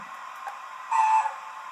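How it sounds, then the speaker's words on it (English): A model steam locomotive's sound system gives a short chime whistle once, a bright tonal blast lasting under half a second above a constant mechanical hum. "We've got a long chime."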